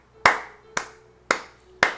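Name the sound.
congregation clapping hands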